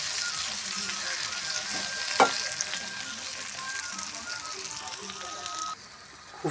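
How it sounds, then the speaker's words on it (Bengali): Spices and green chillies fry in a pan with a steady close sizzle while a utensil stirs and scrapes now and then, and a faint voice is heard in the background. "মশলাগুলো ভালো করে নেড়ে নিই, লঙ্কার সঙ্গে ভালো করে মিশিয়ে নিই।"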